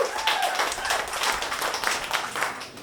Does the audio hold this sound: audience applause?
yes